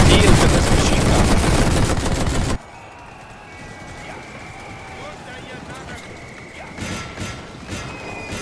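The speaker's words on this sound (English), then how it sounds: "I'm surprised they haven't tried to deal with this machine gun." Machine gun fire in The Great War strategy game. A loud, dense roar of massed gunfire cuts off abruptly, then gives way to quieter scattered shots and later bursts. Speech is also detected.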